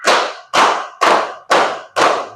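A class of students claps five sharp, unison claps at an even pace about half a second apart, loud and close, with nothing else heard between them.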